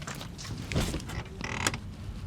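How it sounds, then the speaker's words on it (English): Torque wrench tightening the new exhaust on a BMW E30, a few short creaking, ratcheting mechanical bursts close by with no talking. "Now let's get the torque wrench and let's torque this down."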